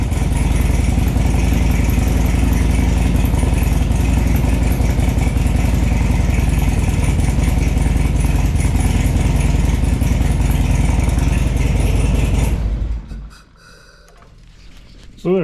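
A used Harley-Davidson motorcycle engine idles nearby with a loud, steady, rumbling chug for about twelve seconds before cutting off into near quiet.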